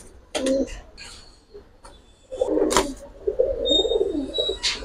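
Pigeons coo in short close bursts, including Giribaz, Pankhi, Silver Afshan, Bagha and Lalpawi breeds, with soft calls and a faint chirp in an otherwise quiet space.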